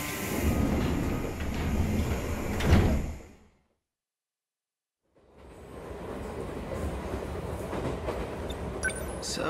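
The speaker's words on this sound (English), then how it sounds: "Looks like my train's here." A train arrives in the video game 13 Sentinels: Aegis Rim, with rumbling wheels and doors sliding, then a brief silence before the carriage noise picks up again with clicks and a low drone.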